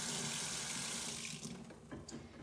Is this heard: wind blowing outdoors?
no